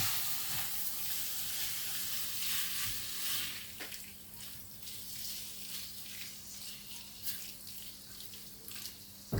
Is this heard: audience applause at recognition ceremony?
no